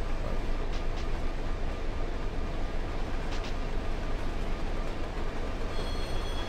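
Train rolling along the line in the Run8 train simulator, a dense, steady roar of wheels and rail noise with faint high squeals, constant and close throughout with no voices.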